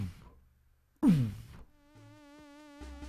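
A synthesized drum sample built in MilkyTracker hits with a noisy attack, then its tone sweeps quickly downward in pitch. It is a short, loud burst, followed by quieter sustained electronic tones.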